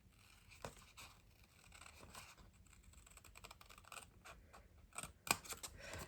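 Scissors snip through a paper coin envelope at close range, with faint, quiet clicks and crisp cuts scattered irregularly over a few seconds.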